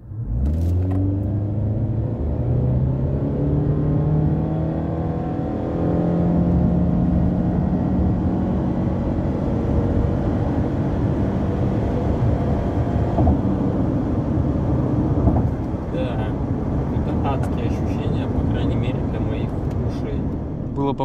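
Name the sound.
Subaru Forester SJ5 non-turbo engine roaring during 0-100 km/h acceleration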